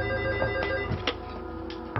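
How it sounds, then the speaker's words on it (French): A telephone rings for an incoming call, a steady electronic ring repeating through the short span at moderate loudness, with no talk over it. "Jean-Yves Morel passe un coup de fil à sa femme absente pendant les recherches"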